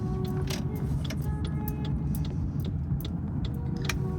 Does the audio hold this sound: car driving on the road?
yes